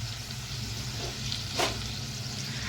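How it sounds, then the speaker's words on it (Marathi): Garlic frying in oil in a pan while cooking a Konkani Karli fish curry, a steady close sizzle throughout with one brief brighter crackle in the middle. "आता आपली लसूण चांगली तळून झालेली आहे."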